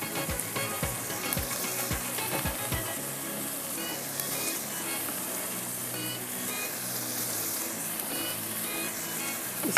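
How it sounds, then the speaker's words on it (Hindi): Masala sizzling and frying steadily in a hot pan, a continuous bright hiss with a few soft stirring clicks near the start, close and even throughout. "जब तक फ्राई हो रहा है हमारा मसाला"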